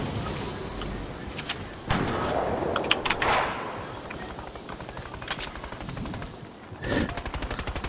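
Rapid bursts of automatic gunfire from a video-game battle, aimed at a llama, with sharp shot trains near the start, middle and end over busy game noise and some faint voice.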